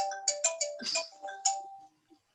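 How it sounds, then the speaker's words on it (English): Mobile phone ringtone going off during a city historic landmarks commission hearing, a short tonal melody of bright chiming notes in quick succession, clear and fairly close, ending abruptly in near silence. "I hadn't even thought about my phone ringing here."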